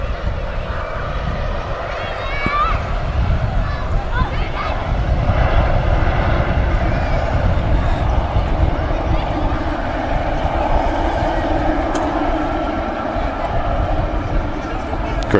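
Qatar Airways Boeing 777 jet engines roaring in a deep, sustained rumble that swells through the middle and stays loud throughout, with faint chatter underneath.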